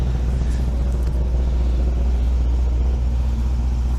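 A BMW engine runs at a steady idle, a continuous low rumble with no gaps. It comes from a V8 pulled from a 1984 635CSi Euro-spec coupe as a donor for a 1995 BMW 530i with a 5-speed. The engine is close and loud throughout.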